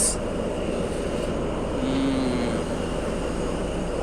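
A ship cruising near Bekutia Bridge with only one engine running gives off a steady, unbroken mechanical drone with a faint sustained hum. It stays at constant loudness from start to finish.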